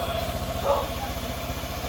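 A Honda PCX 160 scooter engine idles steadily with a fresh iridium spark plug fitted, a low even putter pulsing close by for the whole stretch, with a faint voice briefly underneath.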